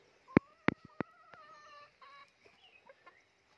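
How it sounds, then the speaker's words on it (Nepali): Kadaknath chickens and roosters in a home farmyard give two loud, close clucks, then quieter clucking and short calls that trail off. "भालेहरू छ यहाँ"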